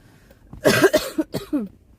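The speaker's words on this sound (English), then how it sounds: "Let me cough all over y'all." A close, loud burst of coughing, several rough hacks in quick succession over about a second, at an outdoor protest at the Capitol in Washington, DC.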